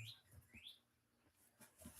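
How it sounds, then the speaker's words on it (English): A red bird singing outside, short faint chirps and rising whistled notes heard at a distance with quiet gaps between them. "There's a red bird outside right now singing."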